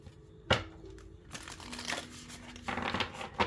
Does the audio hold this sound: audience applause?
no